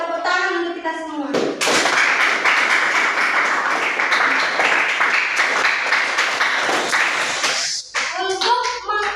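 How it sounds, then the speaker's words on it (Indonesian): A school class in an anti-corruption lesson breaks into loud, sustained applause lasting several seconds, with children's voices just before and after the clapping. "Tepuk tangan untuk kita semua."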